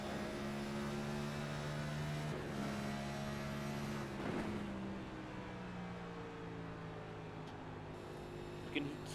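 Simulated NASCAR race car engines drone steadily in the iRacing game at Gateway, held at high revs in third gear, with a commentator talking over the sound.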